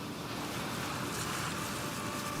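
Steady broadband roar of ocean surf breaking on a beach where turtle hatchlings make for the water, constant and fairly close with no distinct individual wave crashes and no voices.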